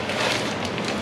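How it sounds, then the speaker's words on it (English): Steady rain falls outdoors around a car being prepared for autocross, a dense even hiss of drops on surfaces with no pauses, nearby and moderately loud. "maybe it's raining, so I'm letting the drag link wash off in the rain"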